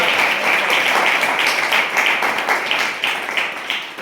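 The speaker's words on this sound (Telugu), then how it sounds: "గట్టిగా చప్పట్లు" Loud, sustained clapping from a church congregation fills the space continuously, a dense wash of many hands with a faint voice or two beneath.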